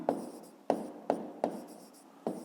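Pen or pencil writing on paper while working a math exercise, five short sharp scratchy strokes spaced irregularly, close and quiet.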